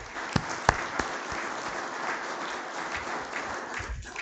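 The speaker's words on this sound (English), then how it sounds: "join me in giving him a round of applause for his career" Audience applause honors a retiring educator at a rural development council meeting in Rome, with a steady wash of clapping and a few sharp individual claps standing out near the start.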